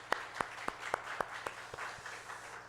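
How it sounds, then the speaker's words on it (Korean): A church congregation claps for the worship team at a special dawn prayer service during Holy Week, giving a handful of sharp, separate claps spaced across a quiet room before fading out. "여러 찬양 팀들에게 우리 수고했습니다. 한번 박수하겠습니다."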